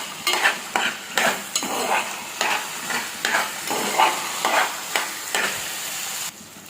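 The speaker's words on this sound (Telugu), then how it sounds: "మళ్ళీ నూనె మొత్తం పైనకి తేలే వరకు మనం ఫ్రై చేసుకోవాలి" Gongura leaves frying in oil while being stirred, a close, regular series of scraping stirs about every half second over a soft continuous sizzle, ending abruptly, with no talking.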